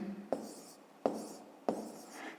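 Numbers written down during a fifth-grade maths exercise, probably pen or chalk: three short, distinct scratchy strokes about two-thirds of a second apart, quiet and close, with no speech over them.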